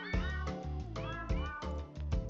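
Cats meowing repeatedly in quick succession, several loud, clear, close meows with a steady rhythm, heard alone without speech.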